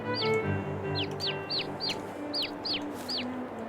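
Chicks chirp in Farming Simulator 22, repeating short high peeping calls at a steady pace over a busy farmyard ambience of clucking fowl and low game background sound.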